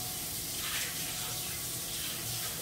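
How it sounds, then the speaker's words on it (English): Tap water running steadily into a kitchen sink while a knife is rinsed, a constant close gushing wash with no pauses. "don't forget to wash your knife."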